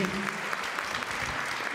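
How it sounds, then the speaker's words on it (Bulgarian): Applause from an audience at a Bulgarian anniversary celebration, following greetings from the culture minister. Dense, steady clapping fills the whole stretch, with some voices mixed in. "Силни аплодисменти."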